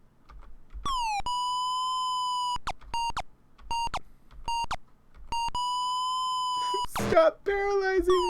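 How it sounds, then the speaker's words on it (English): Chiptune beeps and boops from the computer game Ultima II during a fight, as a run of sustained square-wave tones that stop and start in short bursts, with a rising and falling sweep near the end. "So many beeps and boops."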